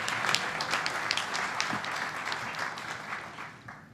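An audience applauds for Dr. Ron Baldessari as he stands and waves at an event on the National HIV/AIDS Strategy, with steady, moderately loud clapping that fades toward the end.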